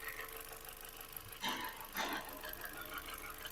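A car engine with a mechanical problem, said to sound like a Ford Transit, runs steadily at a garage, with two brief louder surges partway through over an even, rough hum.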